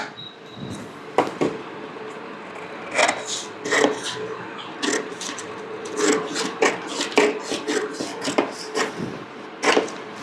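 Scissors snip through dress fabric while cutting out a cap sleeve, giving repeated close crisp cutting and rustling strokes in an irregular rhythm.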